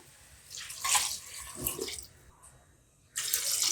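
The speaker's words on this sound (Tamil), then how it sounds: "இப்போ தண்ணி சேர்த்துடலாம்." Water, about four cups, splashes into a pot for mutton soup in a few short gushes with brief pauses between them, close and fairly quiet, with no talk.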